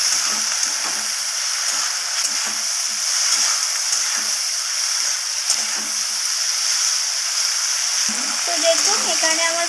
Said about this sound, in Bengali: আমি একটু লালচে লালচে করে ভেজে নেব ভেন্ডিগুলোকে